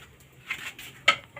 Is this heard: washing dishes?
yes